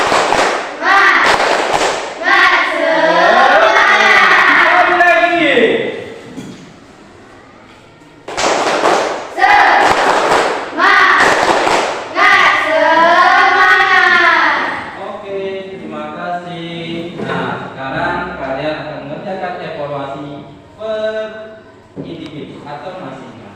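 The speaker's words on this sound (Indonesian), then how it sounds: "Bapak minta dulu tepuk semangatnya" Primary school class performing a rhythmic spirit clap in unison, loud bursts of sharp claps in patterned groups with chanting voices, a pause, then another round, followed by a teacher talking.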